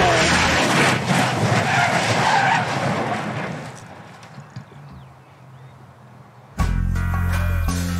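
A car braking hard with its tyres skidding, the brakes smoking: a loud harsh scrub of rubber that fades over several seconds before a sudden different sound cuts in near the end.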